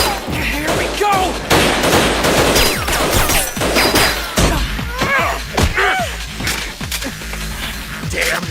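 Gunfire in a dramatic action scene, with repeated sharp shots and crashing impacts over a dense, loud mix, voices and music partly underneath.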